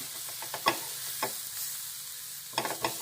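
A protein snack deep roasting dry in a pan, with a soft steady crackle and a few sharp scraping stirs near the start and end.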